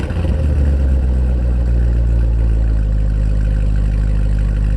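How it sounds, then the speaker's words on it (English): A C7 Corvette with an AWE catless X-pipe exhaust sits at cold start, its engine holding a loud, steady, deep rumble with a gruff edge close by, and nobody speaking. "you guys are going to be able to hear the cold start for the first time with the AWE Xpipe"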